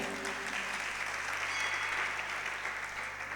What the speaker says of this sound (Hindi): इन बच्चों के लिए तालियां बजाइए।